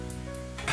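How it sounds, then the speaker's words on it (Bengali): Mixed vegetables with peas cooking in a wok hiss briefly and close as a splash of water is sprinkled in, ending in a slightly louder sizzle. "এইভাবে জলের ছিটে দিয়ে দিয়ে এটা আমি রান্না করব"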